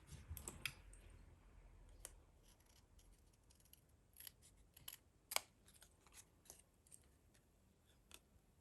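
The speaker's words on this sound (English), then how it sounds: "I need to move the cottage up here and then do some more trimming" Scissors snip card paper while trimming a cottage piece for a handmade shaker card, a handful of soft, scattered clicks and cuts spread over a quiet background.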